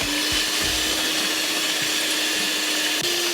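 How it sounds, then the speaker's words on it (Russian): An electric hand mixer whirs steadily while beating eggs and flour into an even batter, a loud continuous close-up buzz with faint knocks of the beaters against the bowl. "Всю эту массу мы взобьем миксером."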